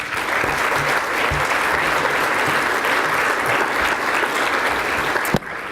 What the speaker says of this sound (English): So please join me in one more round of applause for all the people who made today possible.